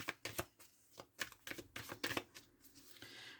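Oracle cards shuffled and cut by hand, a run of quick papery riffles and flicks in short bursts, close and fairly quiet with no talk over them.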